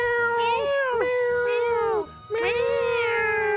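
Stray cats meow in a Final Fantasy VI game scene, several loud, close, drawn-out cries in quick succession with a short gap partway through, backed by a low rhythmic game music pulse.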